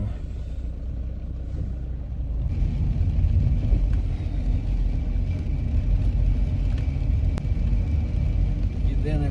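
A car drives on a rainy day, its low engine and road rumble steady and close throughout, with faint interior noises and a brief click.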